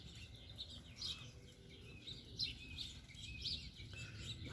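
Birds, including doves, chirp and tweet outdoors on a Sunday morning: scattered short calls rise and fall at moderate distance over a soft background hum, with no voices.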